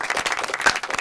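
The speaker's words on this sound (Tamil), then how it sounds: "இதுக்கே நாங்க சிறப்பான கைத்தட்டல கொடுக்கணுமே" An audience at a Tamil quiz-style show claps steadily, with dense applause throughout a brief moment.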